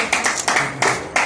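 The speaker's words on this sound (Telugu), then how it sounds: "చప్పట్లు." Applause at an awards ceremony in an auditorium, a steady burst of many hands clapping close and loud for about a second with a few sharper peaks.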